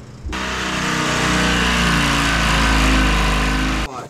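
A Detroit Diesel Silver 4-53T turbocharged two-stroke diesel with 80 mm injectors runs on a dynamometer, a loud steady roar that starts abruptly, holds for several seconds with slight swelling, then cuts off.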